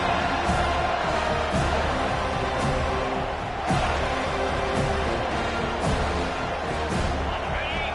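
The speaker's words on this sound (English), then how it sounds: "This crowd trying to make life miserable for this offense." Steady stadium crowd roar during a College Football 25 video game match, a dense continuous wash of noise with occasional cheering swells, heard throughout at fairly even loudness.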